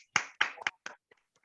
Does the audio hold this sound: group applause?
yes